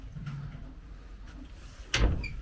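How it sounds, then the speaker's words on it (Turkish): A barn door on a stable housing a horse is pushed shut, landing as one firm thud-and-rattle near the end after a stretch of quiet low rumble. "Kapatalım bir kapıyı bir."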